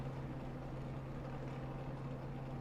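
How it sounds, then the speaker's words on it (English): Race car engines in a Gen 6 Cup Series stock car racing video game, a steady droning hum with a strong low tone that holds evenly throughout, with no speech. "hearing the engines and trackside noises"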